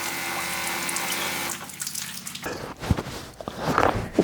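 Water running from an off-grid camp shower fed by a Camplux water heater, a steady spray that cuts off partway through, followed by splashes and drips close by.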